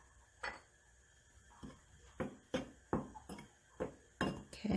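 Chicken pieces tossed with salt and black pepper in a bowl, giving a series of short, close clinks and scrapes against the bowl at irregular intervals, clear and alone with no talking.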